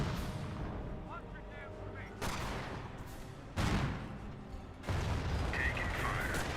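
Flak 88 and anti-tank guns fire in the Company of Heroes battle game, three heavy booming blasts spaced a second or so apart over a continuous rumble of combat noise.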